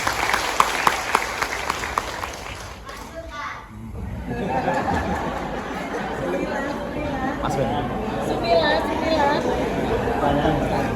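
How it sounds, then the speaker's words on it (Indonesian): Applause breaks out and continues steadily from a crowd at a community capacity-building event in Probolinggo, Indonesia, with a voice and some chatter at first, then a dense patter of clapping. "Tepuk tangan untuk kita semua."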